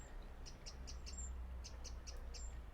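Short high bird chirps repeat in loose pairs over a steady outdoor hiss in a garden in Quimper, Brittany, light and fairly distant, with no voices.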